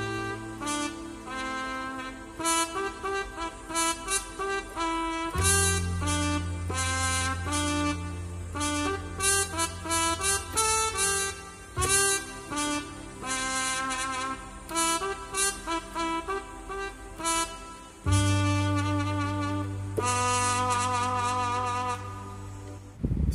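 A familiar melody played slowly on a keyboard, steady sustained tones with a low left-hand note changing every few seconds beneath a measured right-hand line, close and clear with no talking.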